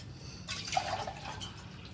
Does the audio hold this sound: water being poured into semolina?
yes